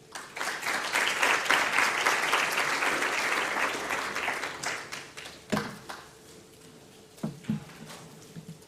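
An audience at a pediatric grand rounds lecture bursts into loud, sustained applause that fades after several seconds, leaving a few isolated claps and thumps near the end.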